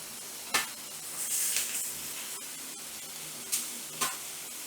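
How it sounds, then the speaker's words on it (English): Cheesesteak meat frying on a propane-fed griddle, a steady sizzle with a few sharper bursts of hiss as the meat is stirred and separated, fairly close and with no voices. "I just want to get it separated where it can start cooking"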